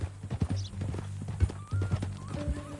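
Horse hooves clip-clop at a steady walking rhythm in the Western video game Red Dead Redemption 2, close and clear over low background ambience, with a faint neigh.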